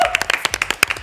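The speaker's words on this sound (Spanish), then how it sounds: "Fuerte de aplauso para Santi Talledo" Studio audience on an Argentine TV talk show clapping, a quick run of sharp close hand claps for about a second, with a brief voice at the very start.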